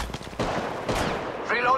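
Rapid automatic gunfire in Apex Legends Mobile, a loud close burst of shots followed by a sustained rattling volley, with game voice callouts layered over the action.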